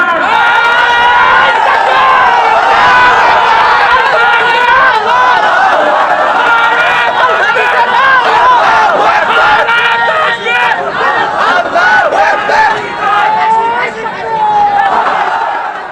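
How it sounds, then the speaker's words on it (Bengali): A large crowd at an outdoor Islamic religious gathering roars loud, sustained chanted shouts of takbir in unison, voices overlapping in a continuous dense wall of sound with little pause. "সাহস করে একজন সেই আল্লাহর নামে তাকবীর দিয়ে দেখান"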